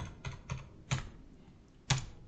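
Someone types a number on a computer keyboard, giving a handful of crisp, close keystrokes in an uneven rhythm with short gaps between presses. The room is otherwise quiet and no one speaks.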